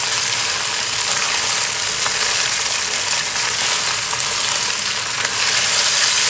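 Stuffed bream frying in a hot pan over a high flame, a loud, steady, broadband sizzle that stays constant and close throughout.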